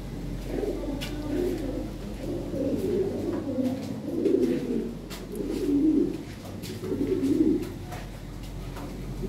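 A breeding pair of Red Lahori fancy pigeons coos close by, with about five soft, rolling coo phrases repeating at a steady pace.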